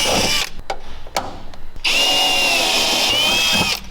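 Power tool driving an Allen head stainless steel bolt during work on a Dodge, several short bursts then a sustained loud whine with rising pitch, close by.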